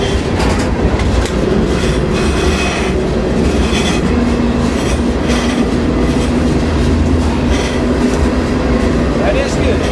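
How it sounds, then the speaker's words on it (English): A freight train rolls steadily along the rails during train-hopping, a continuous loud rumble with clattering wheels and occasional squeal, heard up close from aboard; a voice speaks over the noise. "I'm pretty sure this is the right train."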